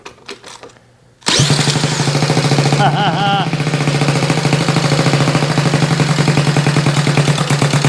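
A Honda Z50A minibike engine fires up after a brief quiet moment, then idles loud and close with a steady rapid putter, with a short rev partway through.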